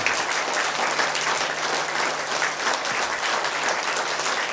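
An audience at a Buddhist vihara event in Wardha breaks into loud, dense applause that holds steady throughout, a continuous close wash of many hands clapping.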